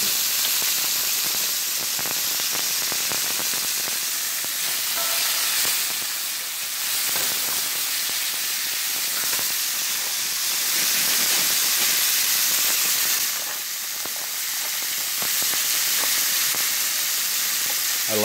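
Venison frying in oil in a pan, a steady close sizzle and hiss lasting throughout with slight swells, no talking.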